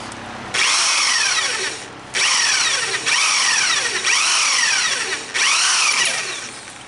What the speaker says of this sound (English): I just take my drill and start a little hole, scratch the metal